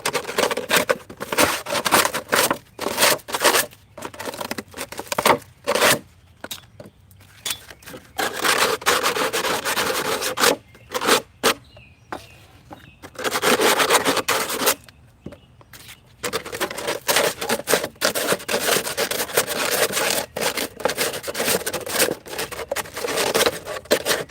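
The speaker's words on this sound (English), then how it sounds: "hit it with a little sandpaper" Sandpaper rubbing along the edges of a wooden piece in a suburban homestead workshop, a steady scratchy back-and-forth rasp in irregular bursts with brief pauses, close and fairly loud, no voices.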